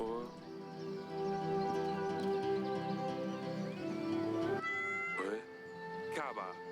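A cat in the game Yes, Your Grace meowing after being petted, heard as drawn-out tonal mews over a sustained musical background, fairly loud and close, with talk mixed in.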